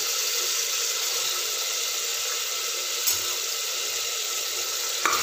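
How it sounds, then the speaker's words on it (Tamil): Tomatoes sautéing in a pan with turmeric, salt and rice nearby, a steady close sizzle and hiss throughout with an occasional light clink of stirring, no voices. "தக்காளி நல்லா வதங்கட்டும்"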